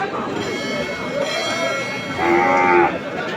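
Cattle lowing in a busy outdoor crowd at a village cattle market in Mithapukur, Rangpur, with a clear moo rising near the end over steady background chatter.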